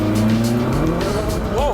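A Ferrari or Porsche sports car launches hard at full throttle during a track agility test, the engine roaring up close with tyres squealing and scrabbling as revs climb in quick steps.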